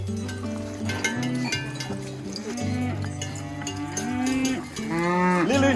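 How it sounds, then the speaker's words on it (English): Cattle being fed at a farm in the Slovenian Julian Alps moo repeatedly in long, loud, close calls, several animals overlapping, with a faint clink like a cowbell in the background. "There's Vlad feeding his cows."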